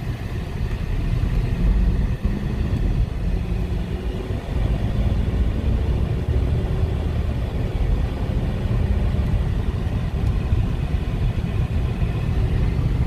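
A 2004 BMW 545i with a V8 and 80k miles pulls steadily through its gears, producing a continuous loud engine rumble that persists for over twelve seconds with no talking.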